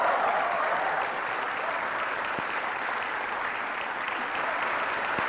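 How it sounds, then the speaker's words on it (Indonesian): A studio audience on a televised school talent show applauds loudly and continuously, a thick wash of many hands clapping at even strength throughout, with no voices standing out. "Tepuk tangan ya yang meriah."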